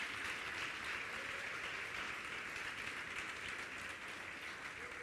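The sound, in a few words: church congregation applauding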